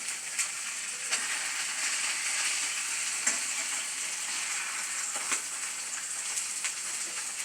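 Fish frying in a pan on an electric stove gives a steady, close sizzle with scattered crackles and pops, with no talk over it.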